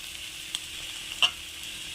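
Cabbage rice stir-frying in a pan with a little soy sauce, a steady soft sizzle with a couple of brief spatula scrapes and clinks, close and fairly quiet, no talking.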